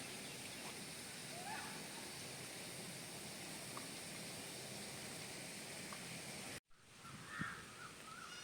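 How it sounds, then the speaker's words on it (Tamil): Water is poured over garden soil covering freshly planted turnip seeds, giving a continuous soft splashing hiss outdoors, faint and steady, with a break and a light clatter near the end. "விதைகள் முளைக்கிறதுக்காக மண் நல்லா நனையும்படி தண்ணி விட்டுக்கலாம்."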